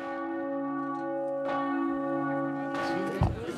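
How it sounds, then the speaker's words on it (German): A peace bell in Frankfurt (Oder) rings with a sustained, resonant tone whose overtones hang in the air, and a fresh strike sounds near the end. "wenn die Friedensglocke in Frankfurt-Oder läutet"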